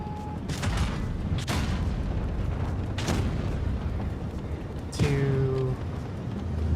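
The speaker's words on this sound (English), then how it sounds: "Fire a shell." Tank cannon fire in World of Tanks Blitz from a Progetto CC55 mod. 54 Italian heavy tank: several sharp, booming shots spaced a second or two apart, the last followed by a ringing mechanical tone.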